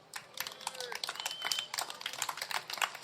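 A live podcast audience in a venue claps, a dense stream of many sharp hand claps filling the whole stretch at steady moderate loudness, with a voice briefly audible early on.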